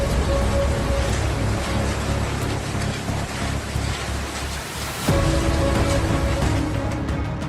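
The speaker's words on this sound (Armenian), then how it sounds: "Ձվի չափ կարկուտ է տեղացել Ստեփանավանում" Egg-sized hail pelting down in Stepanavan, a loud, dense and steady roar of impacts with a brief dip near the end before the din resumes at full strength.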